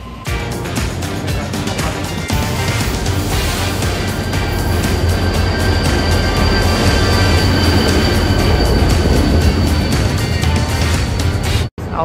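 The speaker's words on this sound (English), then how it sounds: "Our train." A train rumbles along continuously with steady loud rolling noise and a high whine, briefly cutting out near the end.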